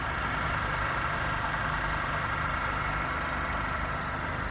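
Mazda MX-5 RF with its naturally aspirated 2-litre SkyActiv engine, running at a steady idle with an even, continuous hum and no change in pitch, heard close and alone.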